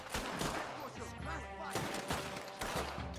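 Gunfire from period firearms in Red Dead Redemption 2, with repeated sharp shots and bursts running through the scene alongside music and voices.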